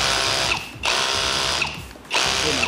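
A YATO brushless screwdriver drill runs at high speed three times: a loud, steady whine cuts off briefly between bursts, close up, with no speech.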